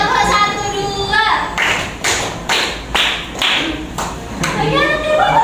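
Seventh-grade students in an Indonesian madrasah classroom clap together in a counted rhythm, several sharp unison claps spaced about half a second apart, framed by a teacher and children talking before and after.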